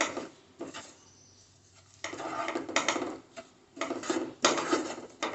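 A utensil scrapes and clinks in bursts as roasted gram flour powder is stirred in a pan, quiet and close, with short pauses between strokes.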